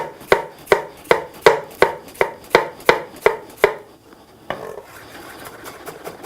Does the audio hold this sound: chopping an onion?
yes